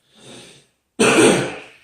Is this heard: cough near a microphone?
yes